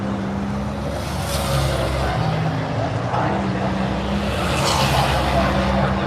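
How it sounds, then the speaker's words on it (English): NASCAR Cup Series Toyota race car running through the front stretch at road-course practice, a roaring engine heard from the stands that swells and fades twice, under crowd noise and a voice talking. "we got one of the 2311 Toyotas coming through the front stretch"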